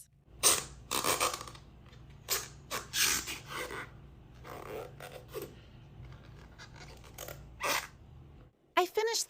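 A crochet hook working single crochet stitches gives soft, close scraping and rubbing bursts that come in irregular clusters, with quiet gaps between them.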